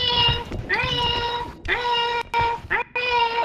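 A cat meows repeatedly at close range, loud drawn-out cries separated by brief pauses.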